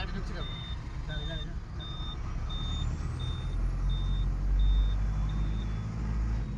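A truck rolls in and backs up while its reversing alarm beeps steadily about eight times over a rumbling engine, with people shouting directions nearby.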